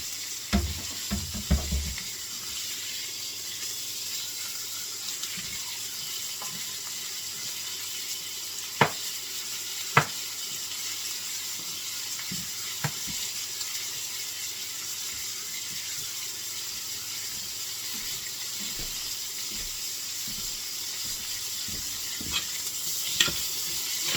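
Asparagus sautéing in salted butter in a pan gives a soft, steady sizzle throughout, broken by occasional sharp clicks and utensil taps, close and alone without talk.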